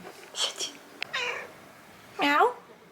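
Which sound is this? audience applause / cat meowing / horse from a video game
cat meowing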